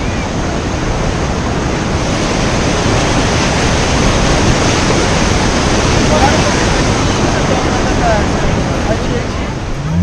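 A loud, constant roar of a river waterfall in Turkey pouring down, broad and unbroken from start to finish, close by.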